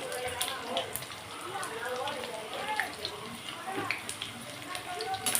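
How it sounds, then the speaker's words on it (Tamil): Mustard seeds crackle and pop in hot oil in a pan while cooking spinach thokku, a dense stream of small sputters and sizzles running throughout, with a voice talking over them. "இப்போது கடுகு நல்லா வெடிக்கிறது."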